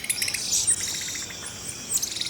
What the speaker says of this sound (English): Their bird-like chirps allow the group to stay in contact so that no one gets lost in dense jungle.